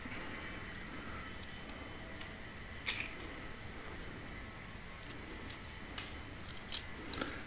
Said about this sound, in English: I'm just going to whittle away at the sides